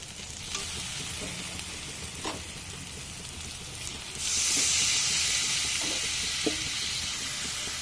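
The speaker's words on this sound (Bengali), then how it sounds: "মশলাটা ভালো মতন কষানো হয়ে গেছে, এবার দিয়ে দিচ্ছি এই মাংস।" Meat goes into a pan of fried spice paste, and the steady frying hiss swells suddenly into a louder, brighter sizzle. A few faint clinks of a utensil sound close by.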